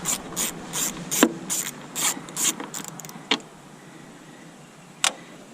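Ratcheting clicks and plastic rattling as 8mm fasteners are backed out of a 2006-2010 Dodge Charger headlight assembly, a close burst of rapid ratchet turns followed by a couple of isolated sharp knocks.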